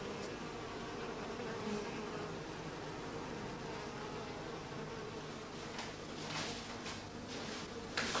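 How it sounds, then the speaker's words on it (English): A small colony of honey bees clusters quietly, giving a steady, soft, continuous hum that stays at an even level throughout, with no voices. "the bees have fused into a small colony, and their contented, quiet clustering shows this clearly"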